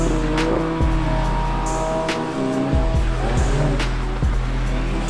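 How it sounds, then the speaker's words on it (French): Driving instructors' cars lap a wet track, engines roaring close by with repeated tire squeals and skids as they slide through corners, continuous and loud throughout. "on assiste directement au balai des instructeurs qui se chauffent un petit peu tout en répartissant l'eau sur la piste"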